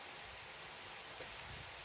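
A steady, even whoosh of broadband air noise holds constant throughout, like a nearby electric fan running with no other sounds.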